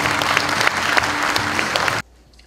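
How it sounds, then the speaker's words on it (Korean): An audience claps at the opening ceremony of a software policy research institute, sustained dense applause from a crowded hall that stops abruptly. "큰 박수 부탁드리겠습니다"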